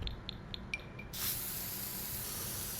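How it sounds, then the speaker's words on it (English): Dirt terrain paint being sprayed in The Sims 4: a few light interface clicks, then a steady, soft spray hiss that holds to the end. "we're gonna spray some of this dirt down"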